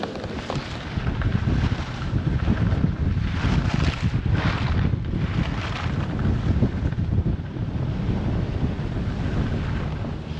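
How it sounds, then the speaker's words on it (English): Strong gusting wind buffets the microphone on a chairlift at Stowe Mountain Resort, a loud continuous roar with surging swells and no voices. "It's a little bit windy on the lift, so try and make it so you can hear us."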